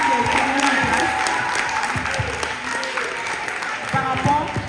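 Audience applause at an association gathering, a steady wash of clapping with scattered louder hand claps and some voices mixed in underneath.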